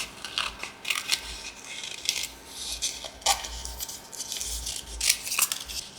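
Scissors snipping around a paper junk journal tag, a close, quiet series of crisp irregular cuts with short pauses between snips and no talking.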